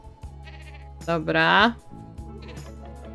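A farm goat in The Sims 4 gives one loud, wavering bleat in the middle of a quiet game soundtrack, with a brief spoken word just before it.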